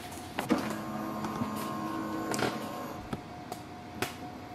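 Epson EcoTank ET-4850 printer scanning, a steady mechanical whir with faint tonal hum and scattered sharp clicks and ticks from the scan carriage, fairly quiet and close, no voices.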